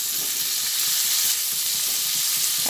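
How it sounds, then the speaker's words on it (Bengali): Cauliflower and soaked raisins sizzle loudly in a hot pan while being stirred, a dense, steady frying hiss with soft scraping stirs throughout and no talk. "একসঙ্গে নাড়াচাড়া করে নিয়ে এরপরে অল্প পরিমাণে জল দিয়ে দিলাম।"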